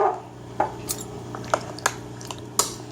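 A spoon stirring and scraping jam into other ingredients in a bowl, giving several sharp clinks of utensil against the dish at irregular intervals over a low steady hum, fairly close, with no talking.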